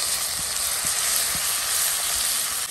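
Tomatoes land in a hot pan with green chillies and sizzle loudly, a steady broadband fry hiss with a few soft stirring taps, close and continuous throughout.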